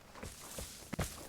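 Footsteps of a player in the game Vigor heading down a hill, faint and soft, a few irregular crunching steps at a moderate distance, quiet overall.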